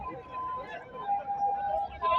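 Emergency vehicle sirens, ambulances and other responders arriving at a road accident, a wailing tone rising and falling repeatedly under a speaking voice, fairly close and loud.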